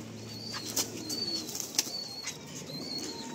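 A young Madrasi pigeon claps and flaps its wings as it is released, giving a few sharp near wingbeats over a faint background hum with no speech.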